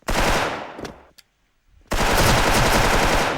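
Two loud bursts of automatic gunfire in the Special Force video game, separated by a short near-silent gap.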